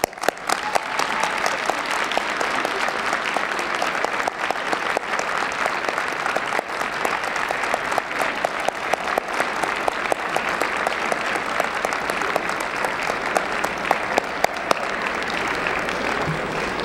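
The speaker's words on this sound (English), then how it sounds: "Just stand up and applaud your families" Graduates at the 2015 University of North Dakota commencement stand and applaud their families, a large arena crowd clapping in a dense, sustained roar for the whole stretch.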